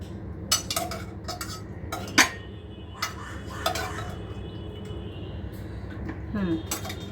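A metal spoon scrapes and clinks against a cooking pot while serving small-cut potato and meat curry, several sharp close clinks spread out over steady kitchen background noise.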